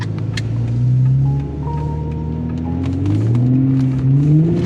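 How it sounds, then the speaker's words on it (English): A car's electric cooling fan runs at normal speed after a short drive, a steady low whir with a rising hum and faint high whine, close and fairly loud with no talk. "as you can hear, the fan's fine."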